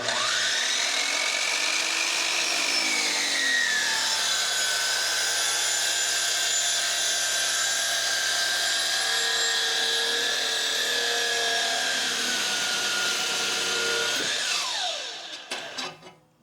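A saw blade, freshly squirted with WD-40, cutting through wood for a boom extension project: a steady, close, high whining cut that holds for about fourteen seconds before winding down and stopping, with no talk.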